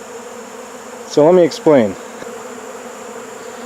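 Honey bees buzz around backyard hives where extracted supers were put back for cleaning, a steady insect drone running throughout, with someone talking briefly over it.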